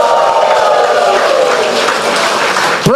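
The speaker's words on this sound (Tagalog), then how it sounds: "Malakas sa palakpakan." A church congregation bursts into loud, sustained applause mixed with cheering and shouts of praise at a New Year worship service, a dense crowd roar that holds steady throughout.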